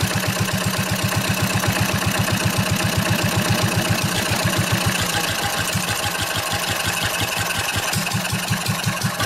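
An old Wolseley engine running at a steady idle, with a rapid, even low chugging pulse that continues throughout, close and loud.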